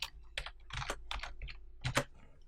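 Keys clatter on a computer keyboard in short bursts of quick taps while a word is typed into a web app's code, with close, crisp clicks and no voice.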